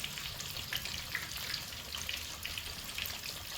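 Two chicken thighs deep-frying in hot oil in a cast iron pan, a steady, faint bubbling hiss and crackle with small pops scattered across the few seconds, no voices.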